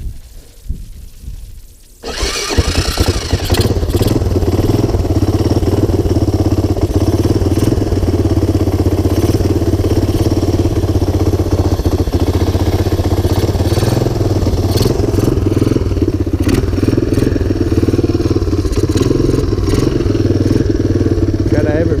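A cold 1985 Honda ATC250ES three-wheeler engine fires up after a quiet start and runs steadily with a fussy, uneven mid-pitched idle, loud and close, holding its rough rumble for the rest of the stretch.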